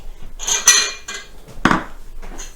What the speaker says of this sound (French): Je vais ajouter mes 3 œufs que je ne vais surtout pas casser sur le bord